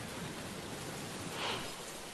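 Heavy monsoon downpour in Nashik under a red alert, a dense, continuous roar of rain hitting surfaces with no pauses or voices.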